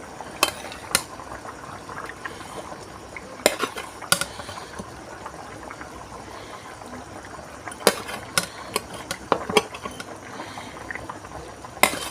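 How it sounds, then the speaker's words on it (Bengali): Catfish pieces drop one by one into a simmering pot of potato curry, giving scattered clinks and scraping utensil knocks in irregular clusters over a soft, steady bubbling background. "আমি মাছগুলো এক এক করে তুলে দেবো"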